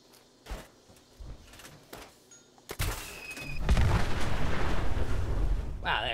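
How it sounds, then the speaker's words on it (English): A Fatman mini-nuke launcher in Fallout 76 goes off in a huge, loud explosion that follows a few sharp mechanical clicks and thumps, then booms and rumbles on for several seconds. "Wow, that explosion's big."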